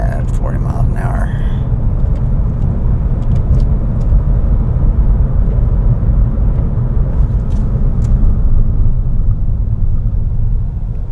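A car drives through rush-hour traffic on Evans Road at around 40 miles an hour, a steady low engine and road rumble filling the clip from start to finish, with a few faint clicks and brief high noises above it and no talk.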